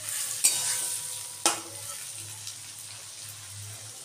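Onion, tomato and cashews are stirred in sizzling oil and butter in a pan, giving a soft steady fry with two sharp spoon scrapes near the start, close and fairly quiet.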